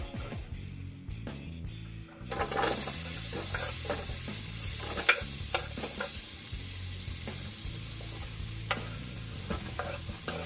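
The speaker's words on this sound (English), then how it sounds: "we're going to saute up some onions" Onions hit a hot pot and sizzle steadily, with a loud continuous frying hiss and intermittent stirring scrapes close by after a short quiet start.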